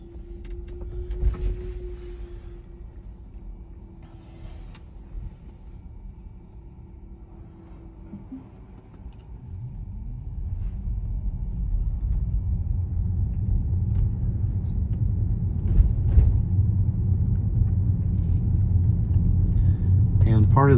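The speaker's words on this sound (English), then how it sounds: "now I can just press start self-driving, and it will literally back out of the driveway" A self-driving car reverses out of a driveway, a low engine and road rumble that starts faint and swells steadily after a quiet stretch, with a brief tone early on and a person talking over it.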